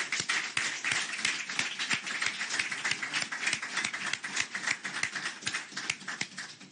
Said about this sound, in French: Applaudir spécialement maintenant pour le premier sportif de notre pays, son Excellence Félix Antoine Tshisekedi Tshilombo